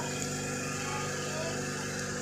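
A Toyota Harrier engine held at raised revs during a gear oil flush, a steady, fairly quiet droning hum with a constant tonal buzz throughout, no speech.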